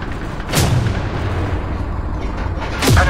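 Two loud tank cannon shots from an M48 Patton in Tank Company, one near the start and one at the end, each a sharp boom over a steady engine rumble.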